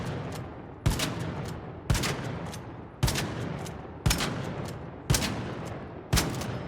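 Six evenly spaced shotgun blasts from the Il Toro 4 in the video game ARC Raiders, each a sharp loud crack trailing into a short echoing tail, with no talk.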